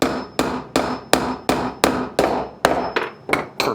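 Eleven sharp, evenly spaced hammer blows drive a nail into the pine side of a gothic arch birdhouse, each strike close, loud and ringing briefly with no talk.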